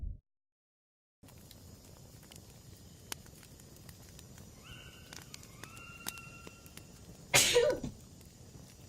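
One abrupt close sneeze from a player at a tabletop role-playing game session, sharp and loud against a quiet room with faint background noise and scattered small clicks before it.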